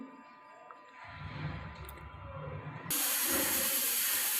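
Running water splashes and hisses as vegetables for a chole bhature recipe, including coriander leaves, onions and ginger, are washed. The flow grows into a loud, steady spray partway through, close and alone.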